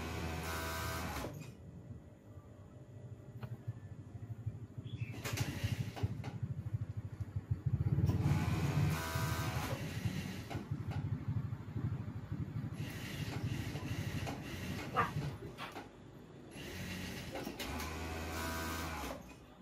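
An overlock sewing machine whirs in several bursts while serging the pocket opening of elastic-waist shorts, a steady close motor drone starting and stopping with short pauses between runs.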